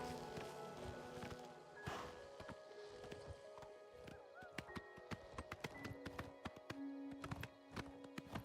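A horse in Oblivion Remastered walks along with clear, regular clip-clop hoofbeats. The sharp taps come steadily over a faint outdoor ambience, and a brief whinny-like sound is heard near the start.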